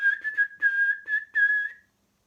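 Clear, close whistling in short melodic phrases with a few brief gaps, imitating a cheerful farmer whistling his way to work, ending suddenly after about two seconds.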